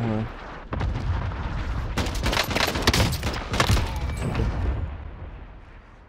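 M1916 rifle firing in Warzone with an oddly uneven cadence: a string of loud, close shots in irregular rhythm over a few seconds, amid distant battle noise, then fading off.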